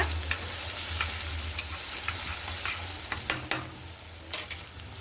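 Chopped onions fry in hot oil, giving a continuous sizzle broken by a few sharp clicks and taps of a utensil against the pan.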